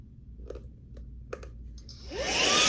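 A Pulse Pro electric SUP air pump switching on after a few faint button clicks, its motor rising into a loud, rushing whine that builds steadily and stays close.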